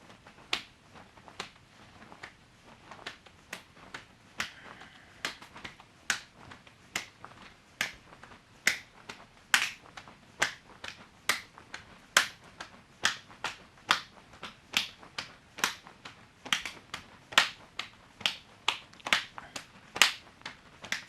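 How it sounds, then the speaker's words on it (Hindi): Sharp hand claps overhead during jumping jacks in a women's self-defence training session, about twenty crisp claps in a steady rhythm roughly one per second, fairly close with a quiet background. "इसके बाद हम दोनों पैरों को जंप के साथ खोलेंगे और हाथों से ऊपर की तरफ ताली बजाएंगे, जिसको जंपिंग जैक्स बोलते हैं"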